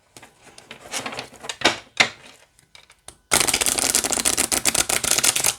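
A deck of tarot cards from a tin is shuffled, a few scattered card flicks and slides at first, then a loud, dense burst of rapid riffling over the last two seconds, close to the mic.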